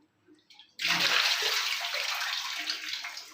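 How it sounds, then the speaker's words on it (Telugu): Tap water gushes steadily into a sink while fish are washed for a curry, starting abruptly after a quiet moment and running on as a close, continuous splashing rush. "ఇప్పుడే కడుగుతున్నాను ఫిష్లు అయితే"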